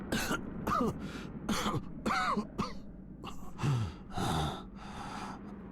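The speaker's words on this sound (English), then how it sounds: "Let's find him by following the sound of his coughs." A video game character in Once Human coughs: raspy coughs and throaty gasps repeat in uneven bursts, close and fairly quiet, with breathy sounds between them.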